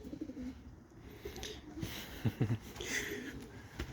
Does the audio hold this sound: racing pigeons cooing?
yes